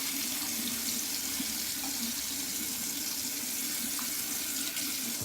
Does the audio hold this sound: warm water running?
yes